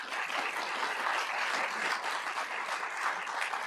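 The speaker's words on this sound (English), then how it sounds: "please give her a round of applause" A civic gathering's audience at Sunnyvale's State of the City event applauds Neighborhood Resource Officer Elisa Barrios, producing a steady, even wash of clapping throughout.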